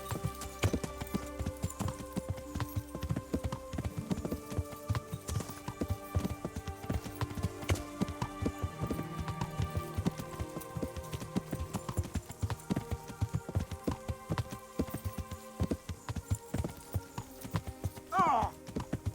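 A horse ridden in the video game Kingdom Come: Deliverance makes steady rhythmic clip-clop hoofbeats through the whole stretch, over game music and ambience, with a brief whinny near the end.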